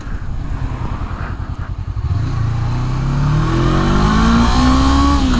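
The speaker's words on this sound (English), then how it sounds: "I want to see what kind of power it has here through its RPM range." A 2018 Honda CB500X ABS motorcycle engine revving up through its RPM range: a loud, close, pulsing idle rumble that smoothly rises into a steadily climbing whine as revs build, with no voices.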